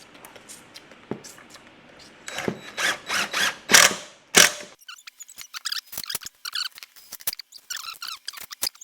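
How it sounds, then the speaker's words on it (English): A screwdriver drives pocket hole screws into wood while a portable pitching mound is built, giving faint ratcheting clicks followed by a run of louder bursts of squeaking and grinding, then scattered quick clicks. "now we're going to put the screws in. Pocket holes. Pocket hole screws."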